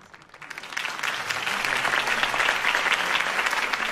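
A crowd applauds at a political campaign speech in the Batman Telltale Series video game. The clapping swells quickly from quiet to a dense, sustained ovation and holds steady, with no voices over it.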